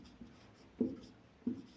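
Pen strokes on paper or board during a Class 10 maths lesson on real numbers; two or three short, soft scratches at an even pace in a quiet room.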